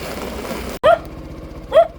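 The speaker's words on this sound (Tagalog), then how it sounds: "Yung aso, dami." Barking from a group of dogs at night in Barrio Militar, Nueva Ecija, heard from a delivery vehicle. Two short barks ring out about a second apart over a steady engine hum.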